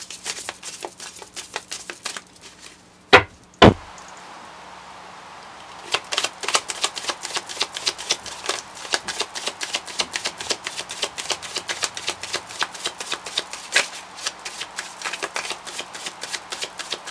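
A tarot deck is shuffled repeatedly in a quiet room, with two sharp knocks early on, then a steady run of dense riffling card flutters close to the listener.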